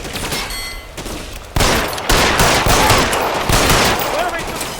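Sustained gunfire from a shootout in L.A. Noire Remastered, loud and close, with dense overlapping shots and bursts that surge hard partway through and keep rattling on without pause.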